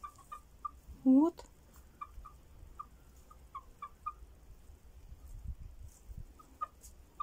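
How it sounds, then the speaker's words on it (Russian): Poultry kept by a home, with a chicken clucking: one loud, brief rising call near the start, then soft, scattered clucks and cackles at a distance, with a voice briefly speaking. "сейчас прям ко-ко-ко-ко-ко, как курица, как будто снеслась"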